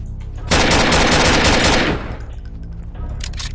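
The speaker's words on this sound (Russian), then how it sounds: "Простите за этот истеричный выстрел. Скорее, канонаду." Loud, rapid machine gun fire in the video game Grey rattles for about a second and a half, then fades into a lower rumble with some crackling at the end.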